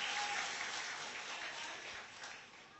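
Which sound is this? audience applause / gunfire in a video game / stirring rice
audience applause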